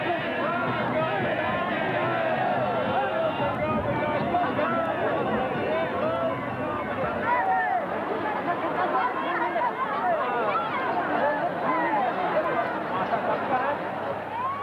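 A dense crowd lining a procession route at the Kumbh Mela in 1989 babbles and chatters continuously, many voices overlapping at moderate distance.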